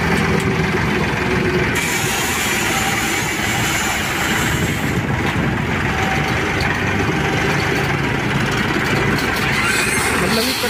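A homemade loader built from a tractor runs with a steady, loud engine rumble that holds unbroken throughout, with faint voices in the background.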